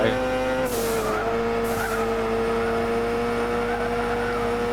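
Onboard a GT300 race car, a steady loud engine drone holding a sustained pitch that shifts slightly, with two brief hissing bursts early on and faint talk underneath.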